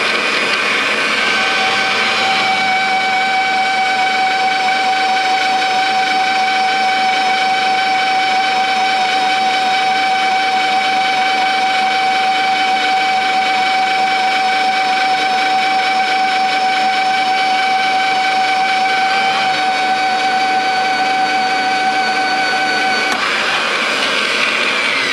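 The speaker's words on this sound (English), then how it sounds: "let's get these drilled" A drill boring holes into the metal front linkage of a farm machine runs steadily and loud for about twenty seconds, a sustained high whine with a strong tonal pitch that stops briefly near the end, with no talking over it.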